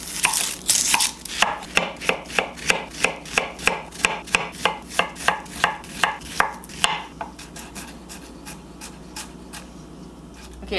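Onions diced with a knife on a board for a feijoada, a fast, even run of close, crisp chopping thuds for several seconds, then quieter scraping and rubbing as the cutting stops.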